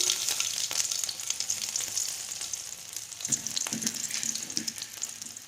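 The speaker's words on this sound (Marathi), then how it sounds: "आता तेल आपलं छान तापलंय तर यामध्ये आपल्याला जिरे आणि मोहरी टाकायची आहे" Cumin and mustard seeds sizzle in hot oil in a kadhai, a steady close frying hiss dotted with small pops and crackles, with no voices.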